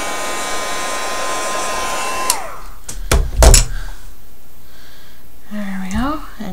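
A hair dryer blowing on a piece of artwork runs steadily, then shuts off with a falling whine, followed by a few thumps and handling noises.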